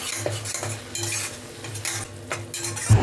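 A spoon stirring salt, turmeric, coriander, chilli powder and Kashmiri chilli with tomato paste in a pan, quick rhythmic scrapes and clinks against metal over a light sizzle, close and clear.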